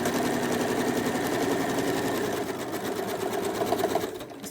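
A sewing machine chain pieces quilt nine-patch blocks at a quarter-inch seam, a close, steady rapid stitching whir that slows and stops near the end.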